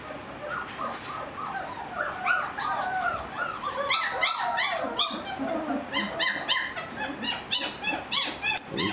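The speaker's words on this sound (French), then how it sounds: "petit chien loup qui vocalise" Three-week-old Czechoslovakian wolfdog puppies whimper, yip and squeal over and over in a busy, overlapping chorus of high cries, close and fairly loud.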